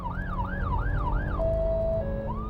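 An ambulance siren on a motorway near a crash scene, wailing up and down in a steady rising-and-falling pattern, then shifting to a held tone and short steps, loud over a constant rumble of engine and road noise.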